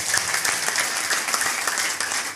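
Audience applause at an Ethiopian church testimony service, steady dense clapping from a crowd filling the whole stretch without a break.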